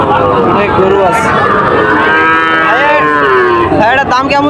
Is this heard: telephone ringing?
no